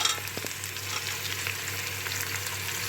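Tomato, mint and coriander sauté in a pan for mutton biryani, giving a steady, close sizzle with a few brief stirring clicks near the start and no talking.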